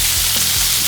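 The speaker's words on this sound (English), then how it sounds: "Very good sizzle." A huge burger patty sizzling on a grill, a dense, loud, continuous hiss of frying fat close up, with no voices over it.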